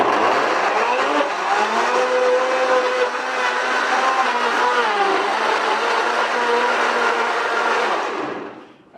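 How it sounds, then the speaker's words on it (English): A blender purees watermelon into liquid, a loud, steady motor whine running continuously for about eight seconds before winding down and stopping. "pretty much all I'm doing here is pureeing it until it's liquid"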